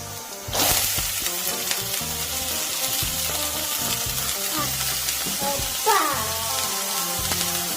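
Chopped amaranth stems dropped into a hot pan burst into a loud sizzle that carries on steadily, with stirring scrapes and a short flare of crackling partway through.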